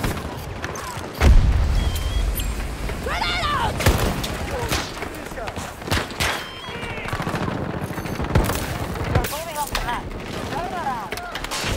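Shotgun blasts from a video game ring out as sharp, booming shots scattered through the clip. Hurried talk carries on under and between the bursts of gunfire.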